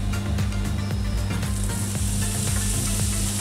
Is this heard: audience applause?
no